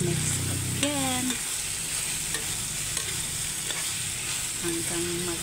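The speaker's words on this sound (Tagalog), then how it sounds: "Mix again" Chicken pastil mixture is stirred in a pan, a steady sizzle and frying hiss with occasional scrapes, close, while brief tonal whistles rise above the bed now and then.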